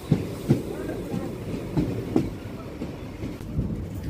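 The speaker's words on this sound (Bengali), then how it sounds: "ফাইনালি এখন ট্রেনটি ঢুকে পড়ল গঙ্গারামপুর রেল স্টেশনে।" A passenger train with general and reserved coaches pulls into Gangarampur railway station in West Bengal, a steady low rumble with periodic clattering wheel thumps on the track, heard from on board at moderate loudness with faint voices in the background.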